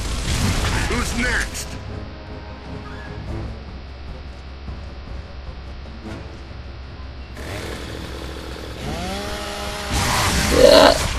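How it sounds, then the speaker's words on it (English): Chainsaw bayonet revving in the Gears of War video game, a steady mechanical grinding drone running for most of the stretch, rising into a louder whining burst near the end, with combat noise around it. "Killed them with my own chainsaw."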